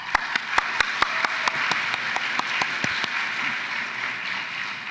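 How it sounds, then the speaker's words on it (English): An audience at an APIDA recognition celebration applauds steadily, a dense wash of clapping with a few louder, sharper claps standing out near the front. "So again, a round of applause."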